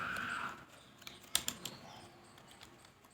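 Computer keyboard keys tapped while typing a page number into a Microsoft Word document, a short cluster of faint clicks in the middle, soft and close in a quiet room.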